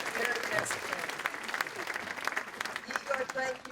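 A banquet crowd at a county Democratic Party unity dinner claps continuously in a warm, even wash, with a few voices faintly mixed under the applause.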